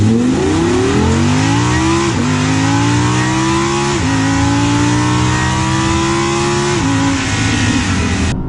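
An Audi R8 sports car's 5.2-litre naturally aspirated V10 revs hard and loud, pitch climbing through gears with brief dips at each shift, continuous and close, with no voices.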